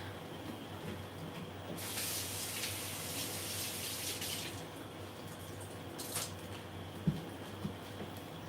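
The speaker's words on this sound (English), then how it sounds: "All right, a little rinse." A kitchen tap runs for a quick rinse as a steady, close hiss of water for a couple of seconds. A second short burst follows, then a few small knocks, with no talking.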